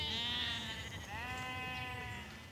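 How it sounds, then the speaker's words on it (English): Sheep in a flock being herded from the fields bleat in long, wavering calls, several animals overlapping at moderate distance over faint outdoor background. "So we've got sheep up there and sheep up there."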